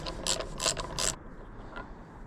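Close, quick ratchet clicks come from a socket wrench turned on a mountain bike air fork, with three or four bright ticks and then a faint tick in a quiet room.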